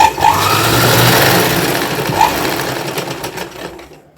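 A sewing machine runs continuously stitching fabric for a young girl's designer outfit, a loud, close, steady mechanical whir that slows and fades near the end.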